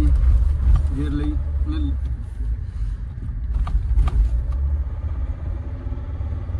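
A car engine drones steadily at a constant pitch, never shifting up, held in third or fourth gear, with people talking over the rumble.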